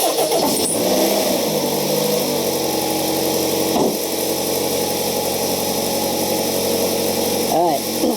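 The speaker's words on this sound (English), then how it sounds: "Okay, I'm going to start the engine." A car engine cranks and catches at the start, then settles into a steady, rumbling idle up close during a vacuum gauge engine test, with a brief rev near the end.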